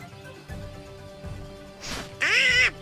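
A duck quacks in the Kingdom Hearts video game, a loud nasal burst near the end, after a softer call, over low game background sounds.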